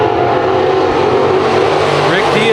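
Sport modified race cars at Chowchilla Raceway roaring past in a heat race, a loud continuous engine drone with a slight rise in pitch near the end.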